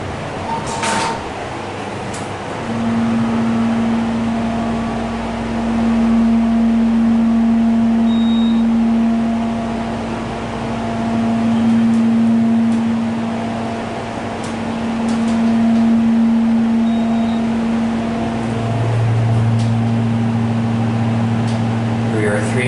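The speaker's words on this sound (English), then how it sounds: "this is the scenic elevator here at Willow Grove Park Mall" Excel hydraulic glass scenic elevator at Willow Grove Park Mall in Pennsylvania, a steady pump hum with a recurring tonal drone and rising pitch near the end, over mall ambience with a voice talking.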